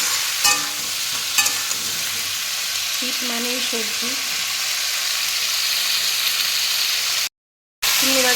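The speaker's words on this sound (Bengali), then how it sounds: "মাছগুলো ভাজা হয়ে গেছে" Pieces of rohu fish fry in a pan with a loud, continuous hiss and sputter, a few sharp taps and scrapes near the start, a short spoken phrase midway, and a brief gap of silence near the end.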